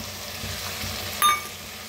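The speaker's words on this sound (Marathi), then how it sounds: "आता ह्याच्यातच दही घेतलेलं आहे बघा, 1 वाटी दही घेतलेलं आहे, फ्रेश दही, ते ह्याच्यात ओतूया" A bowl of fresh yogurt poured into a hot pan of oil and browned chickpea masala, giving a low steady frying hiss followed by a brief, sharp burst of sizzle.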